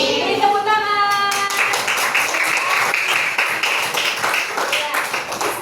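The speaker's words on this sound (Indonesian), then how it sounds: "Beri tepuk tangan." Hands clap in a lively burst after a held sung or spoken tone, a group clapping steadily for several seconds with voices underneath.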